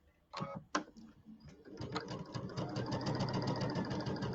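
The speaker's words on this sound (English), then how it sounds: "we're going to sew this together" Sewing machine piecing fabric pieces for a quilted table topper with a 1/4 inch seam, starting with a few separate stitches and then running into a steady, fast, close mechanical whir.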